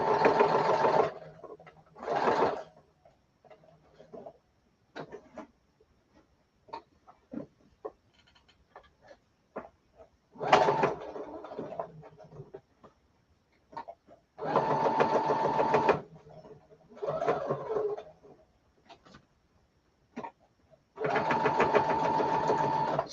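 Sewing machine stitching fabric in repeated close, loud bursts of a few seconds each, separated by quiet stretches with small clicks and handling noises.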